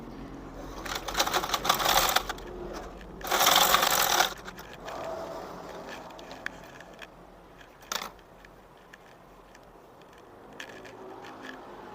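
A sewing machine stitches the hem of a garment being shortened at the waist. Close, rapid stitching rattles in a few short bursts, with quieter handling and fabric noise between the runs.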